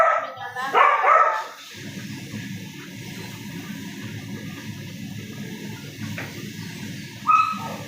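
A pet dog barks a few times near the start in a home kitchen, loud and close, followed by a low steady background hum, with another brief yelp near the end.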